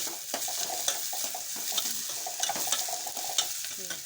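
A ridge gourd stir-fry (palya) stirred in a pan, a spoon scraping and clinking in repeated strokes over a steady soft sizzle, close, with no talking.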